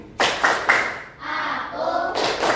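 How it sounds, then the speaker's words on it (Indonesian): A classroom of children performs the Indonesian tepuk konsentrasi, a patterned concentration clap: three sharp group claps in a row, then a brief pause and a softer, busier patch of clapping and chanting voices. "Tepuk konsentrasi."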